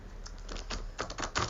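A tarot card deck is shuffled by hand, giving quick close-up riffling clicks and soft slaps in uneven bursts, with no one speaking.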